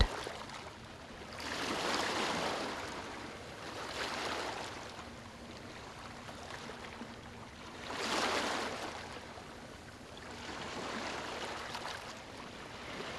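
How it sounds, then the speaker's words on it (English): Ocean waves wash in and retreat in slow, regular surges, each swell rising over a steady background rush and fading before the next, calm and continuous with no voices. "Breathe in the rhythm of the waves."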